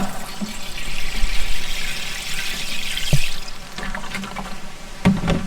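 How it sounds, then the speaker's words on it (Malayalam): Water poured into a microgreens tray for a hydroponic setup, a steady splashing stream running for several seconds with a few sharper spills near the end. "അപ്പൊ നമ്മൾ ഇതിലോട്ട് കുറച്ച് വെള്ളം ഒഴിക്കാം."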